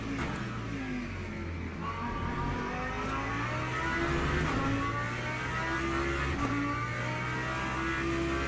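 Hypercars in the Le Mans Ultimate racing game roaring through at night, several overlapping engine tones rising and falling in pitch as cars pass, loud and continuous with no talk.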